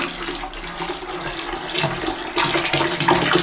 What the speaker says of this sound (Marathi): गरम पाणी यायला सुरुवात झाली.